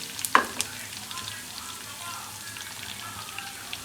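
Cumin seeds and curry leaves hit hot oil over browned onion for a mash dal tempering, a sharp crackling burst at first that settles into a faint continuous sizzle with light pops.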